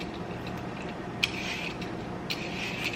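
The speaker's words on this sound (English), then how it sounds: "use this slicer, I forget what you call this, or peeler, and I'm just gonna peel strips" A vegetable peeler draws strips off a sweet potato, making close, soft scraping rasps in a few separate strokes over faint background noise.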